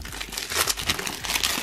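Plastic wrap crinkling as a new Lenovo Y520 gaming laptop is unwrapped, a close, continuous rustle of soft crackles with no one speaking.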